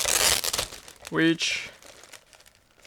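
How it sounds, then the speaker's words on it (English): Plastic bag from an Eduard 1/48 Fw 190D-9 Profipack model kit being opened gives a short, close crinkling burst lasting about a quarter second, with someone talking before and after. "Next, I'm opening another plastic bag"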